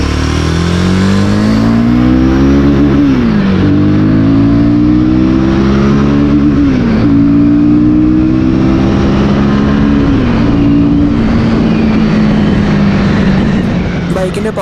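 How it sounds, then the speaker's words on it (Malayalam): A Royal Enfield Guerrilla 450 motorcycle engine revs hard on the road, its loud, close drone climbing in pitch and dropping at each gear change, repeating through several shifts. "Lower and mid range punch ചെയ്യാൻ കഴിയുന്ന തരത്തിലുള്ള ഒരു എഞ്ചിനാണ് ഈ ഒരു ബൈക്കിലുള്ളത്."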